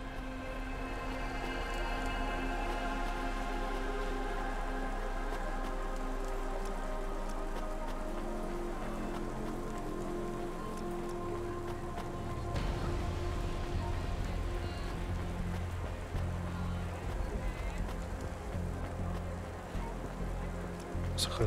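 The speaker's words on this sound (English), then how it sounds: "Don't let all the rain get you down." Rain falling outside a small restaurant, a steady dense patter on surfaces that runs unbroken throughout, with a low rumbling undertone and no clear voices.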